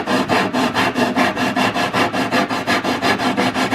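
Sandpaper rubbed over the corner edge of a kid-sized wooden table, a steady run of quick, even back-and-forth strokes, about four per second, close and loud with no talking.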